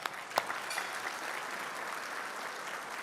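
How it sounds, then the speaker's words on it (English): Gala audience at an evening charity event applauds the sponsors, a fairly quiet, steady patter of clapping from a room full of people, heard from a distance. "let's give our sponsors another round of applause"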